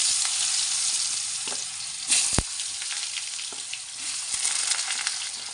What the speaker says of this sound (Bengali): আলুটা হালকা করে ভাজা হবে, তখন আমি ঝিঙেটা দিয়ে দেবো।